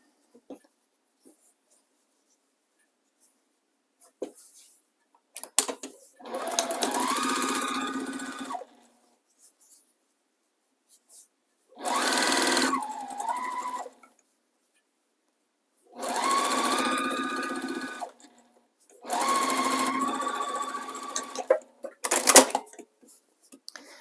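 A sewing machine chain-pieces Trip Around the World quilt blocks in four bursts of rapid stitching, each a few seconds long, separated by quiet pauses and small clicks of handling fabric.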